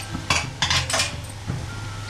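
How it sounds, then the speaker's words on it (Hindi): Cooked dal tipped into a pan while making idli sambhar, heard as a few clinking, scraping knocks of a utensil against metal cookware, close and fairly quiet over a steady low background hum. "तो दाल को हम इसमें पलटेंगे।"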